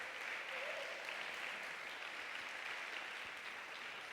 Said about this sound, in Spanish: Dale un aplauso a él, hombre.